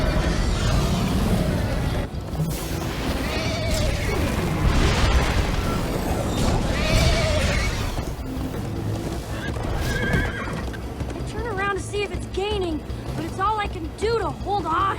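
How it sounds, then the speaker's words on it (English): In the Minecraft Story Mode video game, a horse neighs and whinnies loudly several times amid galloping hooves and low booming effects. Characters talk over the action, and a final run of shrill whinnies comes near the end. "First time on a horse here."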